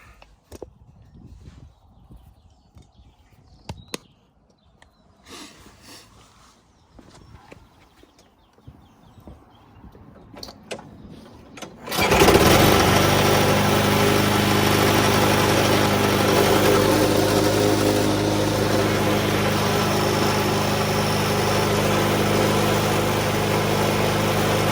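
A Hayter Spirit 41 lawn mower, just fitted with a new spark plug, is pulled over after a few quiet knocks and catches, its small engine then running steadily and loudly for over ten seconds.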